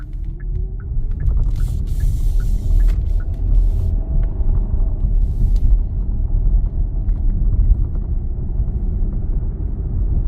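Inside a 2024 Hyundai Santa Fe Limited Hybrid on the move, a steady low road rumble and muted cabin hum continue throughout, with faint ticks and light mechanical noises.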